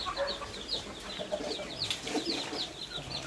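Rhode Island Red native chickens and their chicks in a backyard, several birds clucking and chirping in quick overlapping bursts at close to moderate distance, no talking.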